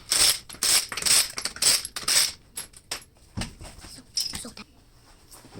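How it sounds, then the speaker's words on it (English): Rapid ratchet clicking from work on a Toyota Sienna's driver's-side front wheel, heard in several loud, close bursts of ratcheting with short pauses and softer clicks between them. "I'm going to go ahead and remove the wheel."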